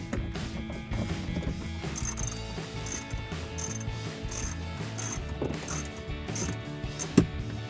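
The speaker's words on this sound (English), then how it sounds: "I'm going to put the bolt back in." A ratchet runs a bolt back into a Form Lighting LED tail light on a Jeep Wrangler JL, a steady close run of rapid clicks with one sharper knock near the end, and no talking.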